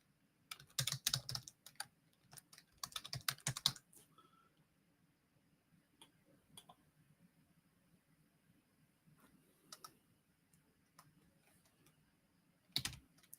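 An email address typed on a computer keyboard: quiet bursts of rapid key clicks with pauses between, close but faint in a hushed room, no speech.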